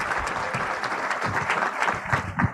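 An audience at a district conference claps in steady, dense applause that holds throughout, with no voices over it.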